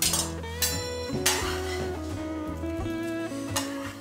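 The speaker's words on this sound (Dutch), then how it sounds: "We gaan dat mengen in die kom." Metal utensils clink and scrape against a bowl with ringing tones, a few sharper knocks spaced through otherwise continuous stirring.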